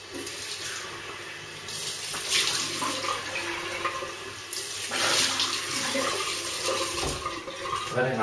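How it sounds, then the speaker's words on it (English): Running tap water splashes as a face is rinsed at a sink after a wet shave, a steady close hiss with brief changes in splashing as hands move through the stream. "Just rinse my face."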